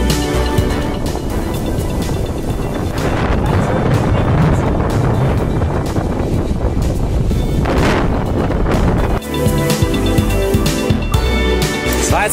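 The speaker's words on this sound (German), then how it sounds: "Ganz schön windig, aber jetzt geht's, jetzt habe ich Rückenwind." Strong wind roars and buffets the microphone continuously while cycling around Lake Chiemsee, with the gusts shifting in intensity and briefly easing near the end.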